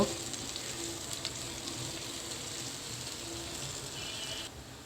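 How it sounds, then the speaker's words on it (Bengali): Onions fry in oil in a pan with a steady, even sizzle and a soft crackle that fills the whole stretch, close and constant, with no talking. "পেঁয়াজটা এখন আমি ভেজে নেব"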